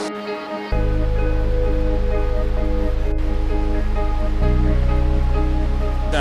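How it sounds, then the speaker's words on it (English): Steady, loud rushing water fills the scene, a continuous broadband roar of the Wulai waterfall and its flowing river in Taiwan, with no voices. "here we have the waterfall and the river."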